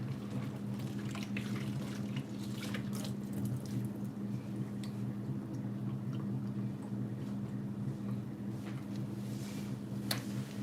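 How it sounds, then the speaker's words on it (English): Running tap water pours steadily into a sink while a freshly washed pot is rinsed out, a continuous close splashing hiss with faint clinks and no talking. "And I'm just gonna rinse this out, and I'll just turn it upside down on the stove right now."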